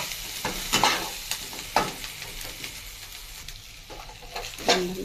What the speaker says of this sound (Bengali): লাল লাল করে আমার ভাজা হয়ে গেছে।